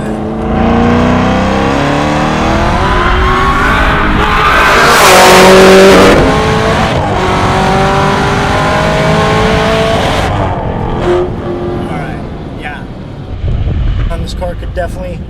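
A 1200 hp Hennessey Camaro ZL1 1LE engine revs hard at full throttle, climbing in pitch through the gears with a brief tire squeal, loud and close, a voice talking over it.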